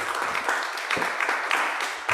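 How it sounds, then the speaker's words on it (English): A chapel congregation at a seminary service claps in thanks for a guest, a soft, diffuse patter of many hands heard at a distance, steady and unaccompanied. "If we could give a round of applause and gratitude."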